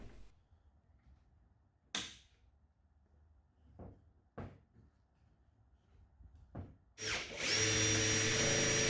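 Power drill screwing together simple brackets with a threaded dowel, several short knocks and clatters in a quiet workshop, then a loud, sustained motor whine kicks in at the end.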